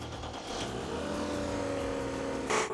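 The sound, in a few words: used car engine running and revving smoothly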